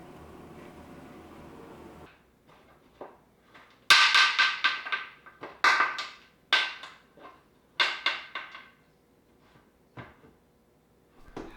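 Screws on a pressure canner lid being tightened alternately after use in processing rooster meat, heard as a close series of sharp metallic clicks and clunks in bursts, loud for several seconds and then fading to sparse ticks.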